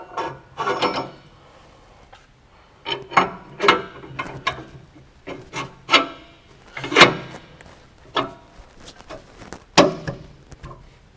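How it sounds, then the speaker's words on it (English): Leaf spring shackles are fitted during installation of a 2.5-inch lift kit on a 2007–2019 Sierra or Silverado 1500 pickup, producing irregular metallic clanks, ratcheting clicks and knocks in short bursts close by with pauses between. "I'll go ahead and put on the shackles."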